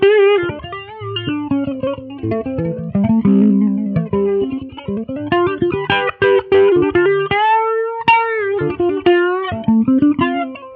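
Kramer Baretta Special electric guitar played with a clean tone, a melodic run of bright plucked notes and chords, one note held near the end, with no talking.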